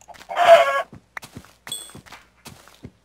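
Chickens cluck in the video game Minecraft: one loud, drawn-out squawk, then a scatter of short, sharp clucks and pops, close and clear with no talking.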